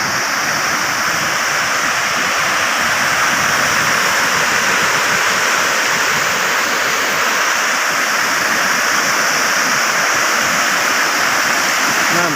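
Strong floodwater rushes through a canal in Isan, Thailand, a loud, steady roar and churning hiss that runs unbroken from start to end with no clear voices.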